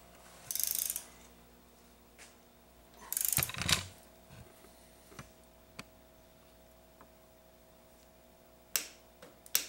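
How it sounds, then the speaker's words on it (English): A torque wrench tightens the lower fork bolt on a Honda CB motorcycle, producing quiet metallic clicks and ratcheting bursts with a couple of sharper louder clicks between them. "I'm using a torque wrench. I'm going to torque this to 18 foot-pounds."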